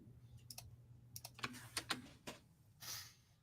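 Quiet computer keyboard typing, with scattered individual key clicks at an uneven pace over a low steady hum, faint and close.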